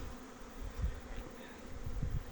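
Honeybees buzz around Ukrainian hives on early spring cleansing flights after wintering, a low continuous hum that swells and fades as insects pass close by, heard alone without talking.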